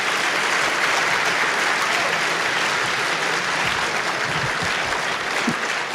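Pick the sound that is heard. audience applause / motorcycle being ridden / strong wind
audience applause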